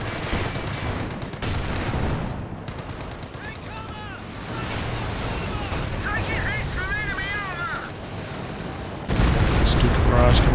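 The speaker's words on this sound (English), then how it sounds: "Stuka barrage coming down." A Stuka dive-bomber barrage in a Company of Heroes 2 battle: dense machine-gun fire and rumbling blasts roll on steadily, swelling into a louder, heavier burst near the end, with a commentator's voice running underneath.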